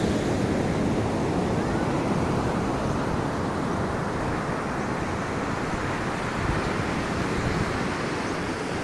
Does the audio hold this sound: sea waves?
yes